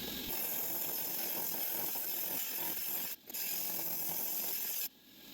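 A rock saw cutting through an agate stone, a continuous close grinding hiss with steady pitch and two brief dips near the end, with no talk over it.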